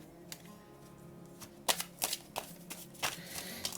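Tarot cards being cut and shuffled by hand, a quick series of crisp riffling flicks and snaps close up, several short bursts in a row against a quiet room.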